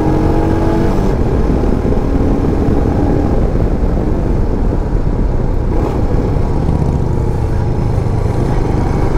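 A 2022 Royal Enfield Himalayan single-cylinder motorcycle engine drones steadily while riding, loud and continuous with heavy wind rush across the whole stretch and no talk.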